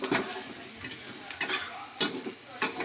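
Onions sautéing in a pan, a steady close sizzle with a few scraping stir strokes and soft clatters across a short stretch, no voices.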